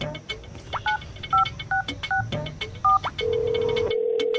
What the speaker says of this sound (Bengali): দাঁড়াও দাঁড়াও, ফোন দিচ্ছি।